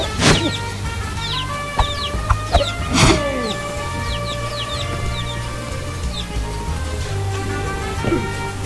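An angry rooster clucks in the video game Guacamelee, with short squawks and chirps scattered over steady, droning game background sound.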